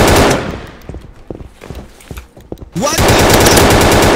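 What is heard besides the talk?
shotgun gunfire in video game Battlefield 2042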